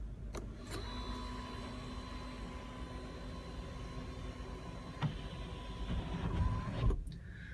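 Panoramic sunroof motor on a 2017 Audi Q5 2.0T, a faint steady electric whir inside the cabin that runs for several seconds before a soft clunk as it stops at full opening.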